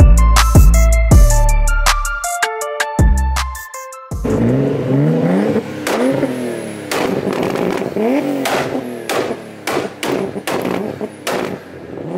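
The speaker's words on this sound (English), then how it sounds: "he's blasting his car and it's kicking out sideways" After a few seconds of loud, choppy musical tones, a Nissan Skyline Tommy Kaira edition roars as its engine revs hard and accelerates, with rising and falling pitch sweeps and thumps from inside the car.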